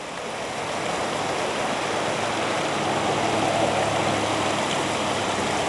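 Flash floodwater rushing across a front yard like a river, a steady, loud broadband roar of flowing water that swells slightly and holds without a break.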